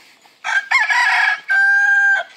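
A Polish chicken rooster crows loudly and close by in a few strained, drawn-out bursts separated by short breaths, with no other sounds around it.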